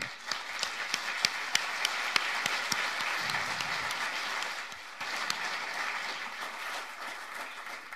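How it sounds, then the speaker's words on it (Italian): A crowd at a political rally in Milan applauds steadily for several seconds, a dense wash of clapping with a brief dip midway before it picks up again. "Un applauso."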